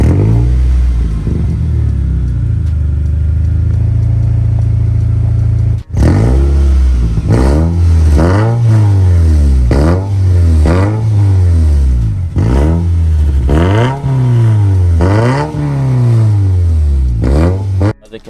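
A custom 2011 Toyota Probox with a working double exhaust idles steadily, then revs loudly in repeated sharp bursts, each rising and falling, about eight throttle blips close to the microphone.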